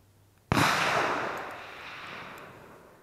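A single sharp shot from a .260 rifle cracks out at a distance, followed by a long rolling echo that fades slowly over a few seconds.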